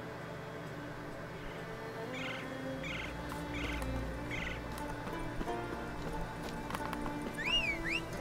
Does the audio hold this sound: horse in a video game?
yes